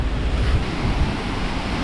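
Wind gusts and ocean surf rolling onto the beach at Itapema, Santa Catarina, a loud, steady broadband rush with low rumbling wave wash and buffeting microphone wind noise throughout, with no voices.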